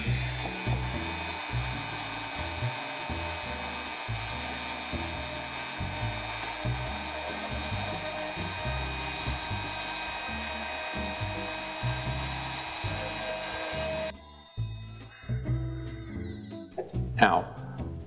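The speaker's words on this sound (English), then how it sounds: "Now it's time for detail work, and for that I need to use the Dremel." A Dremel rotary tool carves the mouth into a small wooden pufferfish, a steady high whine with choppy, rhythmic grinding bursts for most of the stretch, then stopping abruptly before a few brief clattering handling sounds.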